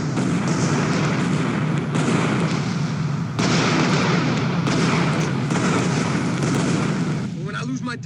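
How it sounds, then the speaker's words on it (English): A large explosion in Grand Theft Auto, with flying cars, delivers a continuous roaring blast of rumble and debris that lasts several seconds. Sharper impacts break through it, and the sound stays loud throughout. "Some are even crushed by flying cars from the explosion."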